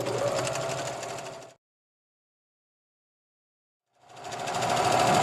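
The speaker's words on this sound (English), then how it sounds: "Now we're going to serge this short edge here" A serger stitches along the short edge of a cotton pillowcase with a steady, close mechanical whir. It runs for about a second and a half, falls silent, then starts up again and builds back to full speed.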